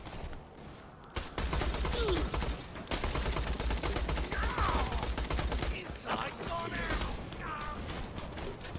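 Sustained rapid gunfire from Borderlands: The Pre-Sequel, fights in low gravity outside an oxygen dome, with bursts of automatic fire and impacts running steadily for several seconds, fairly loud, while someone talks over the action.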